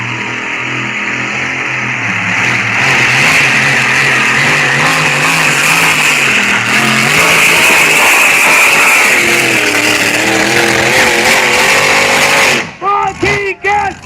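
A supercharged 5.7-liter Hemi Demon race car making 1,500 horsepower roars loud and close at a night motorsport event, its pitch rising and falling for about twelve seconds before cutting off sharply into a few short bursts.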